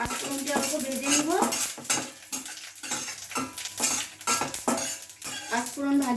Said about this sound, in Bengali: পাঁচফোড়নটা অল্প ভেজে নিব।